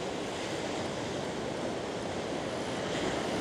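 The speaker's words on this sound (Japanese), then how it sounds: "わあ、すごい、あれめっちゃいい波。" Ocean waves breaking at a surf beach in Ibaraki, Japan, give a steady, loud wash of surf with rushing wind noise over the microphone and no voices.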